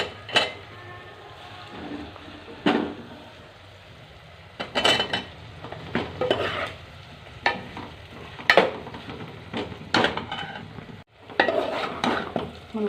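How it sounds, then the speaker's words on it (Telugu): Drumstick pieces and tomatoes being stirred in a pot, with intermittent scraping strokes and clinks of a spoon against metal over a soft sizzle, close and moderately quiet. "ములక్కాయ ముక్కలు వేసేసి ఇలా బాగా కలిపి మూత పెట్టేసి మగ్గనివ్వండి."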